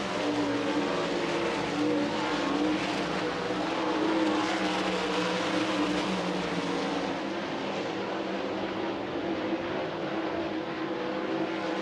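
360 sprint cars race the final lap at I-80 Speedway, a dense, continuous roar of several engines at full throttle, loud and steady with no talk over it.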